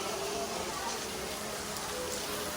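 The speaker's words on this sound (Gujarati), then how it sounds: "અને બહાર વરસાદ તો જુઓ." Steady, dense hiss of rain falling without pause outside a crowded Mahadev temple in Bhavnath, Junagadh, even and moderately loud throughout, with faint voices beneath.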